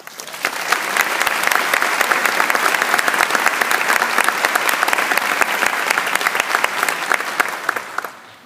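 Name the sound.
audience applause welcoming graduation speaker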